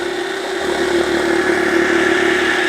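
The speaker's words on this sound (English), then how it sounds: "I'm gonna start this machine, and it's noisy, right? And it's gonna push it through with this auger thing." A noisy motorized juicer with an auger pushes frozen fruit, bananas and mango, through. It gives a steady, loud, droning mechanical whine with a constant hum and no pauses, close by.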